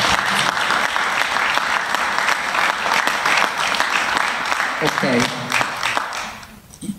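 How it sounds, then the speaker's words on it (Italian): An audience at a talk at Medimex claps in a loud, sustained round of applause that thins out and fades near the end as a voice briefly speaks. "Potete fare un applauso."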